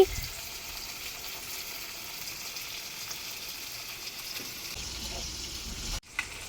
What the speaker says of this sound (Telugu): ఈ మిరపకాయల్ని కొంచెం ఎంచుకొని ఇవి ఆయిల్లో వేసుకొని ఫ్రై చేసుకోవాలి